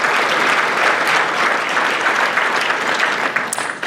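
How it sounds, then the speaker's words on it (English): An audience at a charity gala breaks into loud, sustained applause, dense clapping from many hands filling the room evenly before it begins to thin near the end. "applause."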